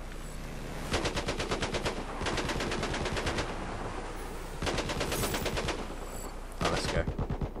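Mounted machine gun in Battlefield 1, Conquest on Dragon Pass, firing several rapid sustained bursts separated by short pauses, loud and close over a background of battle noise.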